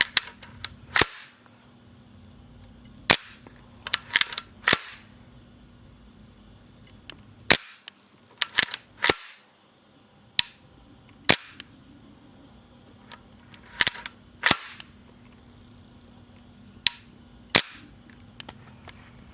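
Tokyo Marui AKM gas blowback airsoft rifle worked by hand, with repeated sharp metallic clacks of trigger and bolt cycling, scattered irregularly, loud and close with no talking.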